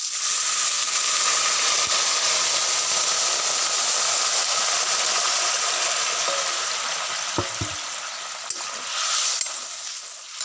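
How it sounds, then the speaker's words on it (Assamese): Hot water poured into a frying pan of fried potato and broccoli for an Assamese fish curry, raising a steady loud steam hiss that fades slightly toward the end, with a few faint clicks of a utensil. "এতিয়া মানে ইয়াত মই গৰম পানী এড কৰি দিম"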